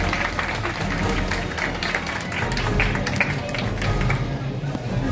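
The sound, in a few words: crowd applauding at avocado festival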